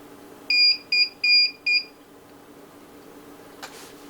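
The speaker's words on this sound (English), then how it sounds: "the alarm will keep going off until the contact is made back up" A Dahua NVR security system alarm buzzer sounds four short bursts in a quick rhythm, then stops, leaving a quiet room hum and a brief faint rustle.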